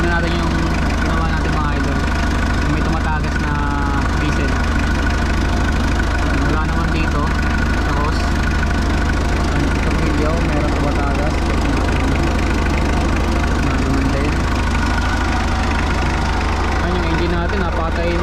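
A diesel engine idles steadily during an engine check after alternator work, with a diesel leak noted, a constant loud low rumble with a mechanical ticking knock running the whole time.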